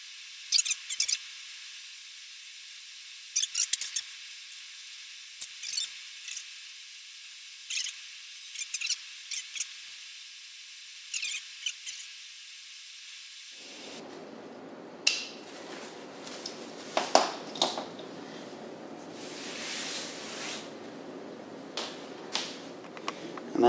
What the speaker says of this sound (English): I've just got this knife here. It should give me an even, clean cut.